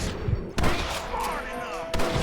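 Shootout gunfire in the video game Red Dead Redemption: two loud, sharp volleys of shots roughly a second and a half apart, with rumbling noise and echo between them and no clear speech.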